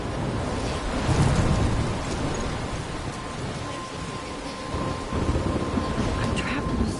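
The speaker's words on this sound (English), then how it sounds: "I'm trapped in a storm?" A thunderstorm in the video game Life is Strange rumbles with heavy rain and rolling thunder, a dense continuous roar that swells and fades over several seconds.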